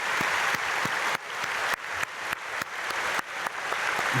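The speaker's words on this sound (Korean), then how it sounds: "우리 크게 박수로 축복하겠습니다." A church congregation claps together for a family during an early-morning prayer service, producing steady, dense applause throughout with a few sharper close claps and no talk.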